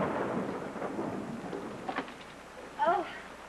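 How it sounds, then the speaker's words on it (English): Heavy rain hisses steadily outside with a low rumble of thunder beneath it, while a brief voice breaks in near the end. "It's raining cats and dogs out there"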